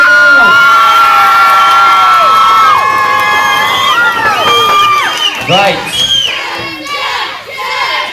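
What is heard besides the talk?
audience cheering for a contestant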